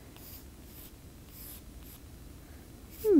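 An acrylic paintbrush makes soft, brief strokes across the painting surface while long hair is painted in, a faint scratchy swishing repeated several times close by, with a brief louder noise at the very end.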